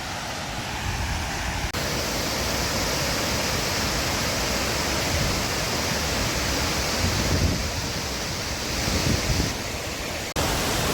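A powerful, continuous roar of water falling from Ransai Dam in Uran, Raigad, broad and steady like a large cascade pouring down nearby, with no voices.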